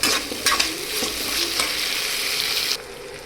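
Tomatoes sautéing in a pan for a Gujarati poha kachori filling, with a steady close sizzle and several scraping stirs of a spoon throughout before the frying noise drops away near the end.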